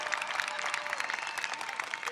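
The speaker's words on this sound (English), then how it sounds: "how about a round of applause for James Moore, leading us in the national anthem" Audience applause for James Moore after he leads the national anthem at Governor Wes Moore's inauguration, a continuous crackling patter of many hands, moderately loud and even throughout.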